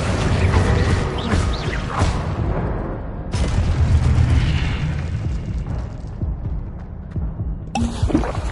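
Spell-casting effects in Hogwarts Legacy burst out as loud magical whooshes and booming impacts, several blasts in quick succession with rumbling tails and short gaps between them.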